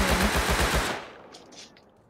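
Rapid automatic gunfire from the survival video game Rust: a loud burst of repeated shots for about a second, then fading tail and softer distant cracks.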